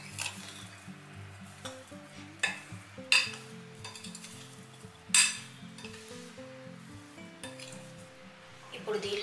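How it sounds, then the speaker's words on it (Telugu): Roasted Indian gooseberries (amla) are stirred in a hot pan for an Andhra-style pickle, giving a soft steady sizzle with scraping stirs and a few sharper spoon knocks against the metal. Voices talk faintly underneath. "ఇప్పుడు దీనిలో మనం ముందుగా రోస్ట్ చేసి పెట్టుకున్న ఉసిరికాయలను వేసుకోవాలి. వీటిని మనం బాగా మిక్స్ చేసుకోవాలి."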